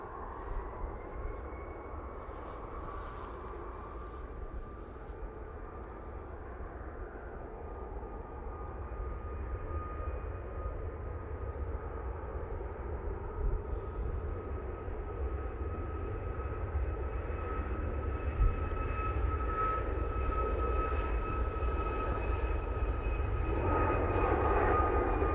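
A TUI airliner takes off from Manchester Airport, its engine roar steady and broad with a high whine, slowly swelling louder over the whole stretch and heard alone without talk.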